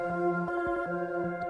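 A dark trap beat runs through a Gross Beat effect, giving stuttering, scratch-like chops over a sustained tonal bed. The short, quiet pattern has rhythmic gated pitch drops and no voice.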